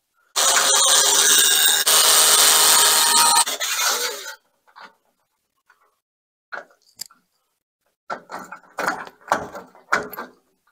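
A drill runs loud and close for about four seconds, boring into metal to fix an Optima support bracket for a plasterboard staircase enclosure, then stops; scattered clicks and handling knocks follow.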